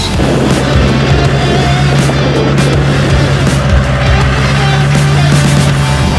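A Chevrolet Avalanche with a swapped-in Duramax diesel engine drives along, giving a loud, constant low drone with a steady engine hum and road rush, no talk.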